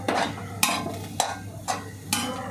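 A spoon scrapes and turns masala idli made from leftover idli and vegetables, with ghee and coriander leaves, in a pan; four distinct stirring strokes sound over a soft, continuous sizzle, close and fairly quiet.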